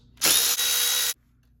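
A power tool, likely an impact driver or drill, spins for about a second while removing a 10 mm bolt on a Suzuki DRZ400SM motorcycle, a single loud close burst with a brief dip midway, then quiet.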